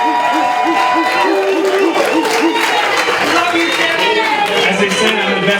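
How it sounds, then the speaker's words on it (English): Wedding reception guests keep up a sustained round of applause with scattered cheers, a dense, steady wash of clapping heard close and loud, with voices mixed in. "And keep the round of applause going for the best man"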